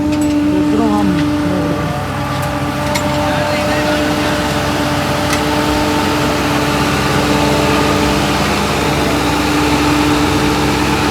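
An Arjun tractor engine runs at a steady, loud, close throb with a constant low rumble, and voices speak over it.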